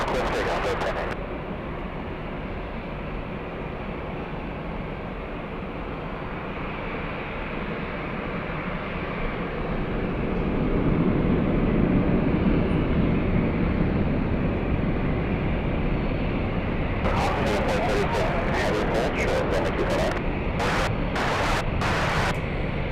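A Delta jet rolls for takeoff on runway 24 left at LAX, a loud sustained engine roar that swells partway through, with a brief radio voice at the start and clicking bursts near the end.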